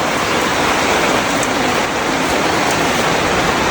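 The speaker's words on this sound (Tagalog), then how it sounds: "Kaya kahit malakas yung ulan sa labas," Heavy rain falling outside a waterproof tent at a campsite, a loud, dense, unbroken hiss of downpour with no voices.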